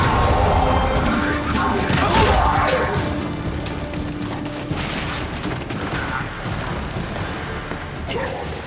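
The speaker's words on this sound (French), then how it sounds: "Attention, grenade!" A grenade blast in the Gears of War 5 game, a loud crashing burst in the midst of gunfire and combat noise that rumbles on throughout, with brief crackling impacts following.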